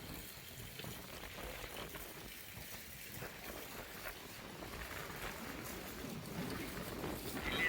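Strong wind blows outdoors among trees at dawn, a low roaring rush buffeting the microphone in uneven gusts that swell toward the end, fairly quiet overall with no speech.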